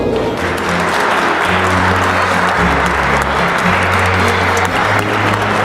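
An audience bursts into strong, continuous applause at a book presentation on the sculptor, painter and architect Benigno Montoya Muñoz, loud and even throughout, with low sustained tones underneath.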